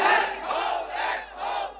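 A crowd at a religious sermon shouting the takbir battle cry, a loud massed chant of voices rising and falling in about three waves, close and alone.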